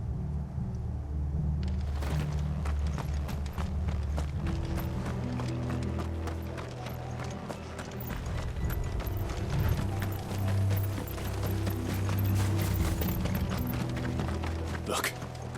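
Horses galloping in Final Fantasy XVI, a steady rhythmic clip-clop of hooves running continuously at close range under game music and rumbling ambience, with some voices in the mix.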